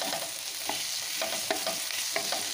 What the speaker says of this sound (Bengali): আলু পেঁয়াজটা নাড়াচাড়া করে ভেজে নিচ্ছি।